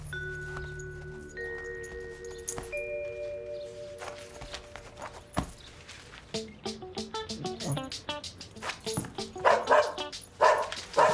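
A dog barks in a cartoon scene, a quick series of sharp, close barks building toward the end after music and sound effects.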